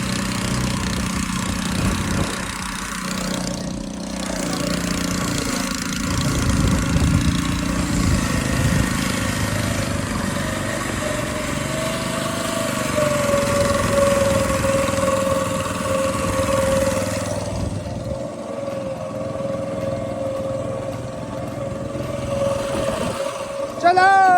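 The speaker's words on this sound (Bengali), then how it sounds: "তো আমাদের বোট স্টার্ট হয়ে গেছে" A small boat engine runs on a misty river trip, a continuous droning hum with a wavering tone that holds steady before easing off near the end.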